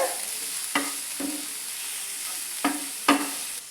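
Chopped onions, garlic and curry leaves sauté quietly in a pan, with a soft sizzle broken by several sharp scrapes and taps of a spoon stirring, no voices present.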